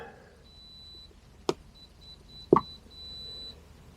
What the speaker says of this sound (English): Some beeping going on.